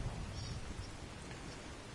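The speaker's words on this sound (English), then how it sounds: "This rain is good for my crops." Soft steady rain in Skyrim, a faint continuous patter and hiss with a low rumbling undertone, heard alone without speech.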